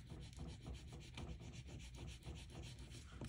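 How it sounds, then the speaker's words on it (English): A scoring tool rubs over a paper piece with its backing peeled off while making journal pages, a quiet, steady scratchy rubbing in quick repeated strokes, close and alone. "I'm just using my scoring tool to do this."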